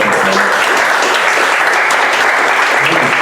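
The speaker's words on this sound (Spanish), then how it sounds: "Un aplauso." An audience at a book presentation in Iquitos breaks into dense, sustained applause, a loud and even wash of many hands clapping together with no voices above it.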